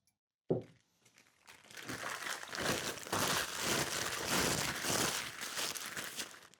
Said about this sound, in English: Now, we're going to wrap them as we've been doing our sort of glasses